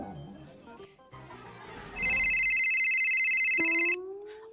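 A friend's call sets a mobile phone ringtone going: a loud, bright electronic tone that sounds steadily for about two seconds and then cuts off, with softer musical sounds before and after.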